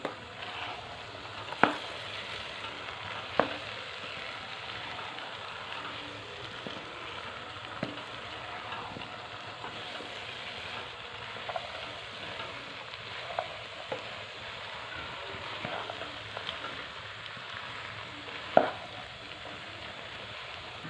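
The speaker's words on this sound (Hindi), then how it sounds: "दो मिनट तक इसको भून कर इसको कवर करके रख देंगे" Carrots, cauliflower and fenugreek fry in a pan for mixed vegetable sabzi, a low steady sizzle running throughout with occasional sharp clinks and stirring knocks, no voices.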